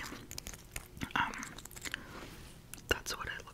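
Close crunchy chewing of edible crystal candy, with sharp bites and crackles at irregular intervals and soft whispered talk between them.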